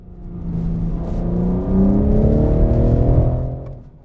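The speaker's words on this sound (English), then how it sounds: "I put my foot down. As you see, the car drifts only gently." BMW M3/M4 engine revving hard while the car drifts gently, a loud, sustained rising growl with harmonic engine tones that climb and hold for several seconds, steady and close, with no voices.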